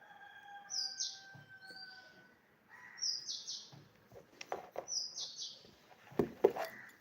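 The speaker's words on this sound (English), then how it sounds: "there is beautiful sound of birds over here," Several birds chirp and tweet in short bright bursts and trills outdoors, moderately close, with pauses between calls and a few faint background knocks; no one talks over them.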